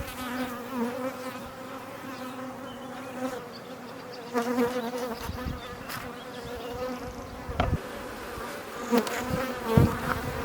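A honeybee swarm pours out of a neighbour's hive, a steady dense buzzing hum that lasts throughout, with bees passing close by in brief louder swells and a few sharp knocks.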